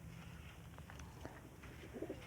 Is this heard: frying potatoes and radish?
no